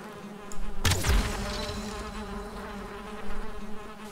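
Bees swarm around a beehive in the video game Valheim, a dense insect buzz with a sharp burst near the start, then a steady droning hum that swells again briefly.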